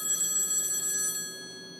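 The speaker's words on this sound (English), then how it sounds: "or even a phone ring" A telephone bell rings loudly and close, a bright trilling burst that stops abruptly, leaving a fading ringing tone.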